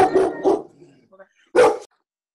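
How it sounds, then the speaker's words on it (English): A dog barks a few times in short bursts, close and fairly loud, with quieter sounds in the gaps and a final loud bark. "my dog's gonna bark"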